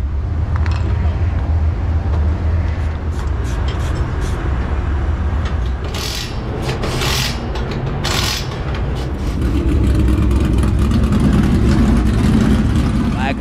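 Dirt track race cars at a fall classic finale rumble and rev together under the flagman before the start, a steady loud engine roar that swells near the end, with people talking over it.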